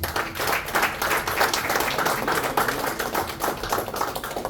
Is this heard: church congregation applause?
yes